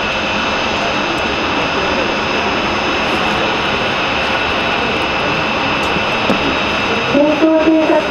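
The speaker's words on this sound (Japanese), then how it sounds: "戦闘偵察機が着陸しました。" A Japan Air Self-Defense Force F-2 fighter lands at the Hyakuri Air Base air show. Its jet engine gives a steady, broad roar throughout, and a voice briefly comes in near the end.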